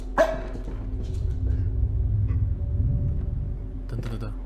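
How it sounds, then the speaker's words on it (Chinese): A dog barks a few times in a supernatural horror video game set inside a house, fairly faint over a steady low hum, with people talking throughout. "我们家狗狗好像又在叫了吗？"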